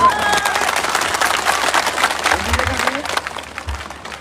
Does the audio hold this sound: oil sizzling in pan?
no